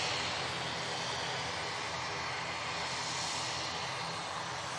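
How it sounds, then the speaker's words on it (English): An Aer Lingus ATR turboprop at an airport, its engines producing a steady, loud, broadband roar that holds constant throughout without pause, heard from a moderate distance with no voices. "This Aer Lingus ATR will be off to Dublin."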